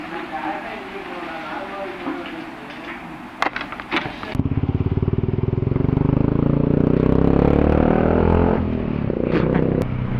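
A Royal Enfield Bullet motorcycle rides along a highway into Salem, its engine thumping steadily in a loud, continuous rumble with wind noise, rising as it passes close by.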